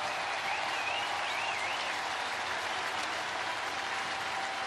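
A baseball stadium crowd at a Brewers–Cardinals game applauds steadily, a broad, continuous wash of clapping and cheering from a large, distant audience with a faint whistle riding on top.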